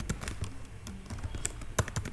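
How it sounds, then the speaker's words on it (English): Typing on a computer keyboard, scattered irregular key taps at close range with a couple of louder strikes, no voices. "So once you type Python there, and then hit enter"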